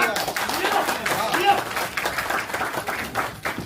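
Claps ring out for a contestant running in a bottle-fetching game at a diamond meet event, scattered, uneven clapping under lively talk and shouting from a host.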